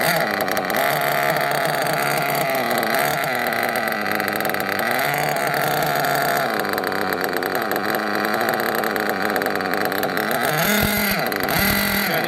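Small RC nitro engine running at idle during tuning, a continuous buzzing drone with slight wavering in pitch throughout, close and steady, no speech.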